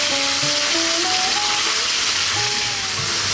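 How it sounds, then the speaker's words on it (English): Beef cubes for a potato curry sizzle steadily in a hot pan, a dense broadband hiss with no talk, while a faint tonal whine drifts underneath throughout. "So we're going to cook this for about 4 minutes, stirring pretty much all the time"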